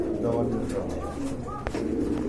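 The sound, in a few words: Indian Bombai pigeons cooing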